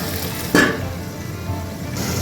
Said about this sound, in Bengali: ওটাকে আমি ফ্রাই করছি, একটু ফ্রাই হবে